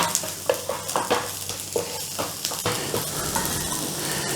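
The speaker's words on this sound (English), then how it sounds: "Our onions are coming down just beautifully." Onions frying in a pan for a Philly cheesesteak sizzle steadily, with repeated scraping and stirring knocks over the first few seconds before the hiss carries on alone.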